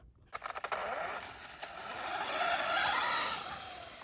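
A Traxxas Slash 4x4 RC car with a three-speed transmission runs at quarter throttle, its motor giving a steady, close whine that builds and holds for several seconds after a few short initial bursts, with no talking.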